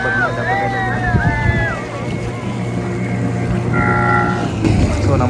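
A motorboat runs across a lake toward a mangrove forest, its engine droning steadily under wind noise, with birds calling faintly at times.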